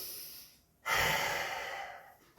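One long, close inhalation during an exercise session: a short faint breath, then a strong airy intake that holds steady for over a second and tapers off, with no talking.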